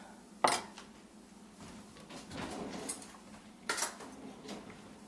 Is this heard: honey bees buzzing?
no